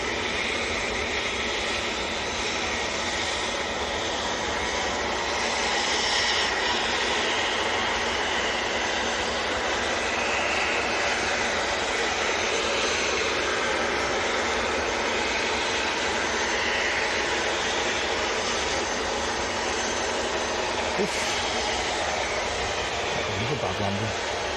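Aircraft landing at Manchester airport, a continuous broad jet engine roar that stays loud and steady throughout, with faint voices in the background.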